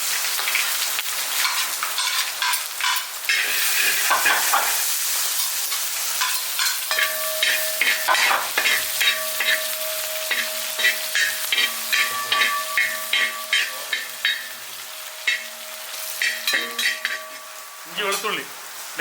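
Ginger and garlic sizzle steadily in hot oil in a pan for a Kerala-style mutton potty thoran, with repeated clinks and scrapes of stirring throughout and a brief voice near the end.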